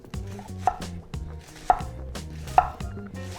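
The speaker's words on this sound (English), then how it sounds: "slice the leek in half lengthwise. Curl the fingers of your non-cutting hand back and cut small, thin slices using a circular motion" Knife slicing a halved leek into thin half moons on a cutting board, a quick regular series of crisp chops close up with no talking.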